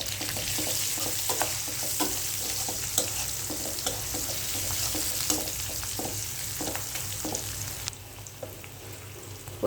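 Vegetables frying in oil with chili, turmeric and salt, giving a continuous close sizzle with regular stirring knocks throughout. The sizzle softens slightly near the end, and nothing else is heard.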